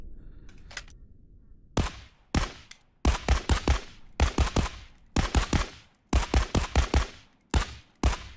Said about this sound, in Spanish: Uy, los disparos han cambiado.